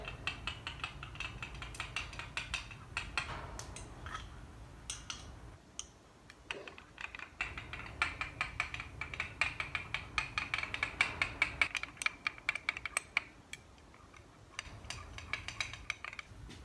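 A knife stirs a glitter-flecked plastisol soft plastic bait mixture in a cup, giving rapid light clicks and scrapes in uneven bursts with short pauses, close and fairly quiet.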